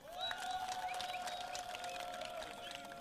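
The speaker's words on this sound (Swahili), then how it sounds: "jipigie makofi" Crowd at a night opposition political rally at Nasiamba market in Kenya, clapping and cheering at a moderate distance, with a sustained whistle-like tone and shouts over the steady applause.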